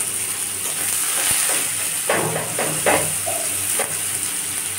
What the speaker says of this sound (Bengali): পেঁয়াজটা আমার ভাজা হচ্ছে।